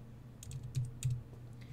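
Numbers being typed on a computer keyboard while entering a measurement in Tinkercad Codeblocks: a handful of soft, close key taps spaced unevenly over a quiet room hum.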